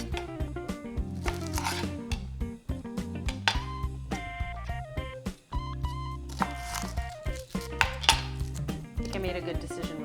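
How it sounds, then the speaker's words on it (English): A knife chops a shallot on a cutting board in a home kitchen, with a quick, steady run of sharp taps against the board, close and clear, broken by a couple of short pauses. "And then let's cut the shallot."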